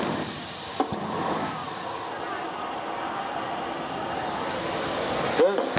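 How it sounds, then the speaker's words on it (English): The jet engine of a jet-powered Lincoln Navigator SUV at the Cape Cod Airshow whines and roars in a steady sustained drone, with a faint high tone above it and a brief thump near the end. "This is the jet-powered Lincoln Navigator. This is the first jet-powered SUV in the world today."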